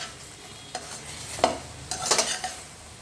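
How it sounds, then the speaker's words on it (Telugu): Soya chunks (meal maker) fry in a pan, giving a soft sizzle broken by a few quick stirring scrapes and light clinks of a spoon against the metal. "మన మిల్ మేకర్ కూడా మంచిగా వేగిపోతుంది."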